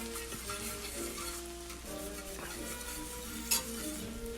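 Eight sage leaves stirred in a hot pan, sizzling and crisping with a steady frying hiss and occasional light scrapes and clinks of the utensil against the pan, fairly quiet and close.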